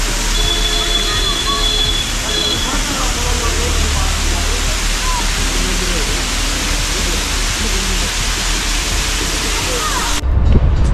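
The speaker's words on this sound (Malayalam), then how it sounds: "ഇതാണ് വളഞ്ഞങ്ങാനം വാട്ടർഫാൾസ് കേട്ടോ." Valanjanganam waterfall roars as a steady, loud wash of rushing water, with faint voices and birdsong beneath it and an abrupt cutoff near the end.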